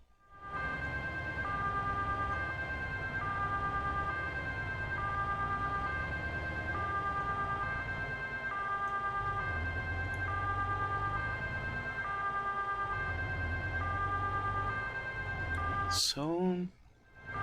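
Emergency vehicle siren from the Farming Simulator 22 Emergency Pack mod wails steadily and loudly for the whole stretch over a low engine rumble, with a sharp burst near the end.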